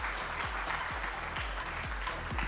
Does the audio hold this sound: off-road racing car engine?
no